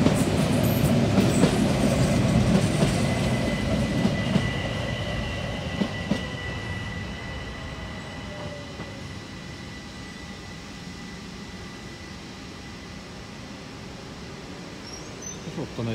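A train rolls through a busy Austrian railway station, loud rumbling and wheel clatter near at first, then fading into the distance with a faint high whine.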